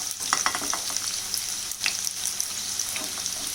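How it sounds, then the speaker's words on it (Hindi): Onions fry in hot oil with a bright, steady sizzle and crackle, while a spoon stirs them in a few clattering bursts. No talking. "तेल गर्म हो गया है। अब सबसे पहले हम प्याज को डाल देते हैं।"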